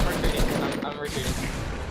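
Rapid bursts of loud gunfire from the video game Fortnite crackle continuously at close range, with a player's voice faintly mixed in.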